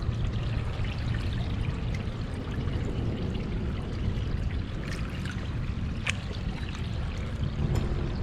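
Water flowing in a city creek, a steady close rushing and trickling wash that fills the whole span with no talk.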